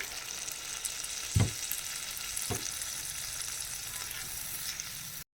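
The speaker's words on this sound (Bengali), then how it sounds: "এখন আমি পরিমাণ মতো অল্প একটু জল অ্যাড করে দেব।" A curry sizzling steadily in a pan as water is added, a loud continuous frying hiss with a couple of brief thumps and stirring bumps.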